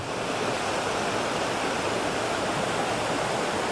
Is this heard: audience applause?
no